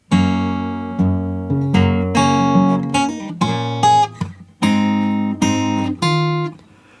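A guitar plays bars 11 and 12 of a song slowly, ringing chords and single notes struck one after another in a clear, unhurried rhythm with brief pauses between them.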